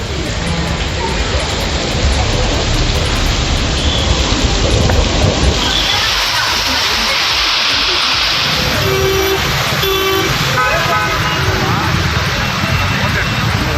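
Heavy evening rain pours down across Tiruppur streets, a dense steady roar of downpour filling the whole stretch, with water rushing along flooded roads and a faint distant rumble mixed in.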